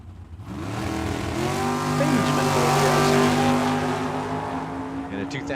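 A 2021 Dodge Hellcat drag racing car roars at the track, its engine note rising and holding loud for several seconds before easing off, with a faint voice under it.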